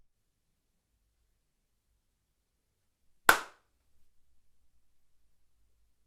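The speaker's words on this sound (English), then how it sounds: "Here is a sound clip from the room when I clap my hands." A single sharp hand clap in an untreated home room, followed by a faint, rapidly fading ring of flutter echoes, with silence before and after.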